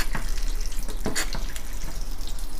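Aquarium water runs through a siphon pipe during a water change, giving a continuous close trickle with irregular gurgles and splashy bursts. A low steady hum sits underneath.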